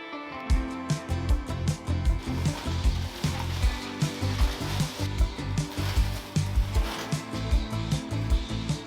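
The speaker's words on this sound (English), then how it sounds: "I'm using the joiner and then the planer to make sure both sides of these boards are perfectly flat and parallel" A jointer and planer mill pallet wood boards with a dense, loud machine roar. Rhythmic surging pulses repeat about every half second throughout.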